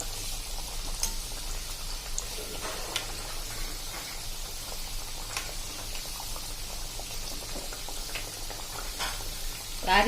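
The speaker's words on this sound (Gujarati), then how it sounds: "તો હવે આપણે મુઠિયા તળી લેશું આ રીતે।" Muthiya deep-frying in hot oil, with a steady, loud crackling sizzle that runs the whole time and occasional light stirring taps, with no voices.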